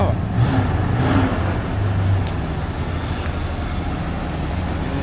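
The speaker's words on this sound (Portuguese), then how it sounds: "Olha o ronco dos carros." Dodge Charger RT V8 engine rumbling outdoors at a steady, loud level, with a deep low roar throughout and a few brief rising revs early on, heard from a short distance.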